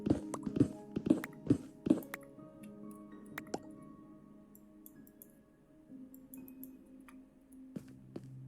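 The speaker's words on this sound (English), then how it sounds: "I hear running water" In a Minecraft cave, water drips in a quick series of sharp, close plinks at the start, followed by sparser drops over a faint ambient hum.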